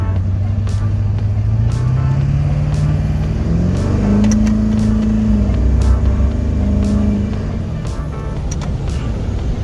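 An LB7 Duramax diesel pickup with an upgraded 3-inch intercooler pipe accelerates through traffic, its engine note climbing in loud, steady pulls with a rising drone, brief air hiss and other road noise nearby.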